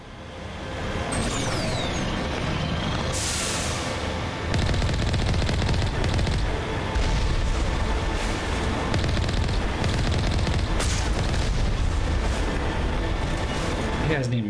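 Gunfire against Geth robots in the sci-fi game Mass Effect: a loud, dense stream of rapid automatic shots with harsh mechanical bursts, sustained without pause for the whole stretch.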